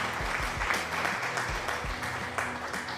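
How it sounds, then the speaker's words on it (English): Applause from a player character in the factory-building game Satisfactory, set in a desert area: a short burst of clapping over low game ambience, with a few distinct hand claps. "He applauded."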